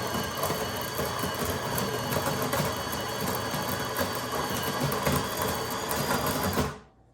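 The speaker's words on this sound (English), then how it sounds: "I'm just gonna brew a cup for you guys." A Delonghi coffee machine brewing a cup at medium strength, a steady, close mechanical hum and whir that runs without a break, then cuts off abruptly near the end.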